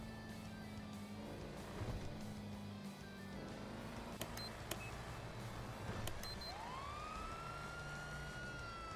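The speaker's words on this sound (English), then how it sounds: "I'm just turning on my sirens" Police car sirens in a video game wail faintly over a low vehicle hum, with short beeps and a rising siren sweep near the end.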